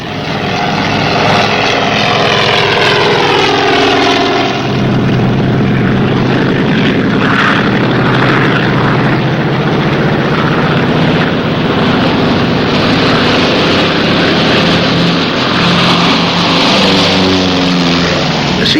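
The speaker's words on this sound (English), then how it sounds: "The seaplane took off in a great hurry, leaving the two divers behind." A seaplane's loud propeller engine roars steadily, its pitch sweeping as it accelerates across water on takeoff, droning on continuously at close range.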